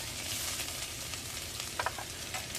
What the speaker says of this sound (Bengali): নুনটা দিয়ে আদাটা ভাজলে বেশি ছিটকায় না